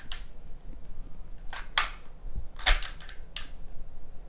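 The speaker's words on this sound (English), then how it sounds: "the first shot from this toy gun will fire the pellet, but doesn't eject the shell" Toy gun with blowback action firing pellets, a few sharp snapping cracks with mechanical clacks of the slide between them, close and fairly quiet against low background noise.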